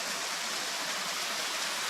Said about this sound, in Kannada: ಇದೆ ಮುತ್ಯಾಲಮುಡಿ ವಾಟರ್ಫಾಲ್